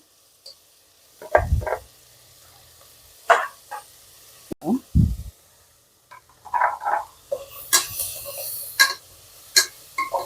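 Green chili and ginger-garlic paste sauté in a pan for a home-cooked vegetable pulao. Intermittent scraping and stirring knocks sit over a faint sizzle, with a few louder clanks and brief bursts of hiss.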